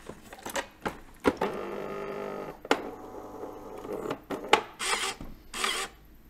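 A Nivona espresso machine that crackles and dumps dry coffee grounds starts up with rubbing, rasping mechanical grinding and clicks, then several short loud bursts of hissing or whirring near the end.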